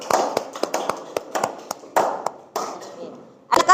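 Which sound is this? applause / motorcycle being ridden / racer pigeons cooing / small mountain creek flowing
applause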